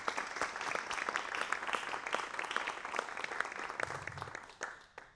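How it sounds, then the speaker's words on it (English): A room of volunteers at a neighborhood mediation program celebration applauds the program staff, with dense, steady clapping that carries on for several seconds before tapering off. "To give them a round of applause."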